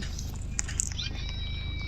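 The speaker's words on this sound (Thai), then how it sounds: "แมวข้างบ้าน" A cat in the Zooo rescue game gives two brief, high meow-like calls close together near the start, over a steady low rumble.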